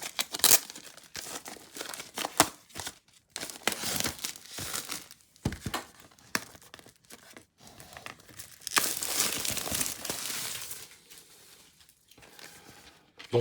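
The plastic shrink-wrap on a double vinyl LP, Super Furry Animals' Phantom Power, is torn open and peeled off, producing close, loud crinkling and tearing in irregular bursts with brief pauses.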